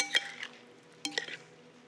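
Two scrapes and clinks of a spoon working whole wheat pasta salad in a bowl, soft and close, with a brief pause between strokes.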